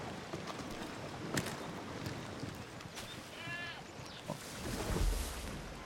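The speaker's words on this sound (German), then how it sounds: "Was? Ziegen gibt's auch?" Goats bleat in a short vocal burst with a warbling pitch amid the outdoor ambience of the video game Assassin's Creed III, heard over steady background noise and some scattered clicks.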